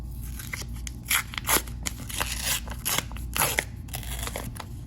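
Scissors cutting open a cardboard box of half dollar coin rolls, a series of close crunchy snips and crackles coming in irregular bursts.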